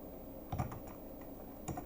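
Soft typing on a computer keyboard, a few quiet key clicks in two short clusters over a low background hum, with no voices.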